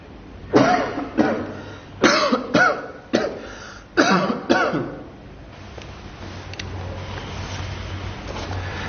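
A series of harsh coughs, about seven in quick succession, close and loud, then quiet room noise.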